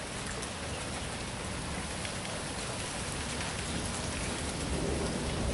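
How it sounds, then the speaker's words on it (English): Steady, dense rain pours down during a severe July thunderstorm in Flat Rock, Michigan, a continuous broadband hiss of drops hitting surfaces, loud and even throughout, with no distinct thunderclap. "Well, it just started to rain."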